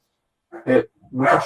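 A dog barking indoors, two close loud barks with a brief pause between them.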